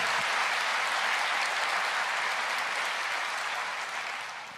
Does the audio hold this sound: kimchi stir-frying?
no